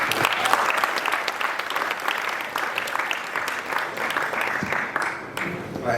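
An audience at an Africa Day event in Parliament gives sustained, full-room applause, a dense, even clatter of many hands lasting several seconds, with a voice faintly underneath.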